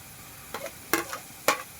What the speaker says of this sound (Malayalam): ഇതിലേക്ക് ഇനി നമുക്ക് തക്കാളി ഇടാം കേട്ടോ.